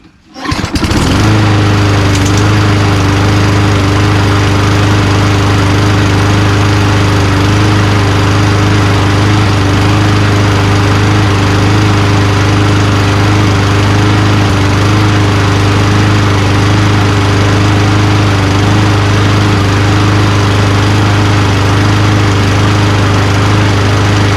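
A Toro Recycler Personal Pace push lawnmower engine runs at a steady idle, loud and close, with a constant low drone and even vibration that continues without a break.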